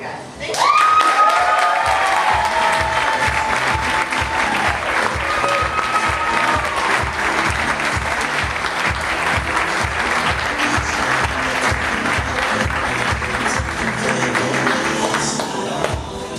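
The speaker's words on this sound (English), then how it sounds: "Everybody give all these little applause." Sustained audience applause at an agency meeting, a dense wash of many hands clapping for about sixteen seconds, steady and loud with some cheering and crowd voices mixed in.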